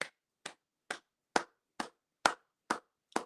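One pair of hands claps eight times at a steady, even pace, crisp and close with silence between the claps.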